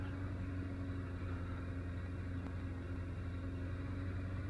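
Kawasaki 550 motorcycle rolling slowly at about 15 mph through a park, its engine a steady low rumbling drone held at an even level throughout, with no voices.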